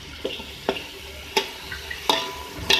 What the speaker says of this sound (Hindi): तो आप पहले भून लें